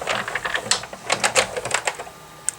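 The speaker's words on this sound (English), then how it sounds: "And you can hear that little click. That means it's gotten through on this side." Die-cutting machine with card and paper passing through, giving a quick run of close, sharp clicks and ticks in an uneven rhythm, with no talking.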